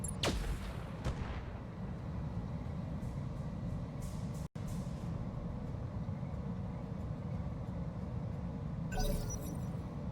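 Heavy mech weapons fire in the BattleTech video game: a sharp blast opens, then rumbling booms and crackling impacts continue under a low, steady roar, with a brief dropout midway and a bright crackle near the end.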